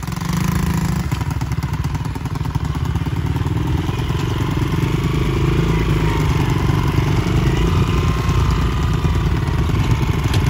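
Motorcycle engine revving outdoors on a rural trip, a steady loud drone with low thumping pulses that build and swell, running continuously throughout with no talk over it.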